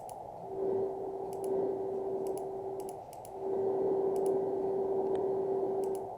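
In the Silent Hunter 4 submarine game, a torpedo propeller sounds as a steady mid-pitched whine over low murmuring bubbling, swelling and dipping, with scattered faint clicks and no talk.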